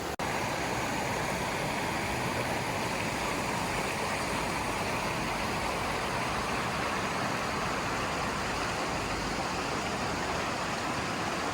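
Steady broadband rush of river water flowing over rocks in a New Hampshire river in autumn, loud and continuous throughout with no break, close by.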